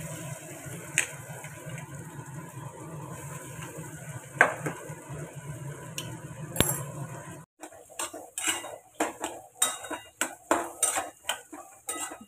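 Spiced mashed potatoes stirred in a pan on the stove, with a steady low sizzle at first, then a run of sharp metal spoon scrapes and clinks against the pan, close and fairly quiet, with no talking.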